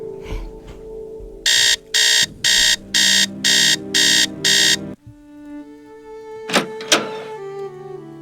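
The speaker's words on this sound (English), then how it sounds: "set the alarm for 3 a.m." An alarm clock in the Nancy Drew game Treasure in the Royal Tower rings at 3 a.m. with seven loud, evenly spaced electronic beeps. Two dull thumps follow after a pause.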